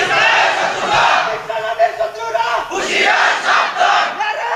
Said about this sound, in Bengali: এবার তাকবীর মার, পুরা ময়দান কাঁপায় দে।